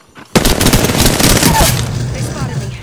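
Rapid bursts of automatic gunfire erupt suddenly in a video game shooter, loud and close, rattling on for a couple of seconds before tailing off.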